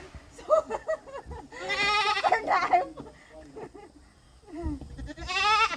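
A goat bleats loudly and repeatedly before slaughter, long wavering cries that rise and fall, with people talking close by between the calls.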